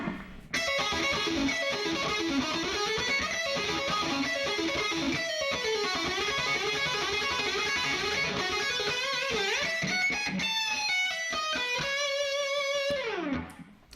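A distorted electric guitar runs through a fast, shreddy solo of 16th-note patterns, a steady stream of bright melodic runs that ends with a descending slide before cutting out.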